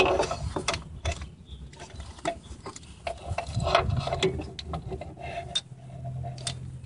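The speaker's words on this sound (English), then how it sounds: "I use a 3/8 ratchet, about I believe it's a 3-inch adapter" A 3/8 ratchet with a 3-inch extension adapter turns a spark plug on a 2004 Mazda RX8, giving a rapid, close clicking of the pawl in repeated bursts, with light handling noise between strokes.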